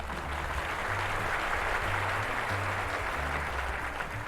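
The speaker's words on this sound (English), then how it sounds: "Applause for Sheepa." Sustained applause from a crowd, a dense, continuous patter of clapping at steady loudness throughout, over a faint low hum.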